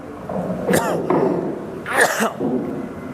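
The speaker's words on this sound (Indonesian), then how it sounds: "saya agak batuk memang" Two harsh, close coughs about a second apart, each a short burst, with a quiet room in between.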